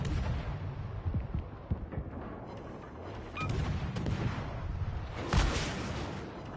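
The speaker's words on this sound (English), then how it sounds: "He's in 7k, so our secondary rockets will go off." Secondary rocket batteries fire on a modern-era warship in World of Warships Legends, a rumbling barrage of deep booms and launches over a constant engine roar, heavy and close with no talking.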